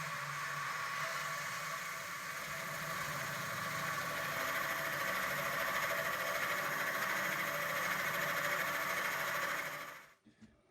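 A lathe drills slowly into the center of a burl wood bowl with a 1-inch bit, making a steady whirring drone that cuts off sharply near the end. Close and even, with no talking.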